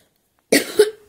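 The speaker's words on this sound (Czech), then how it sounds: "jenom trochu kašel" A person gives a single sharp cough in two quick bursts, close and loud, after a moment of silence.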